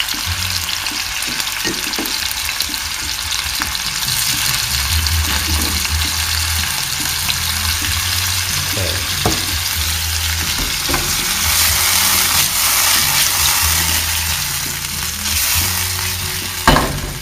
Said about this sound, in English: When you fry this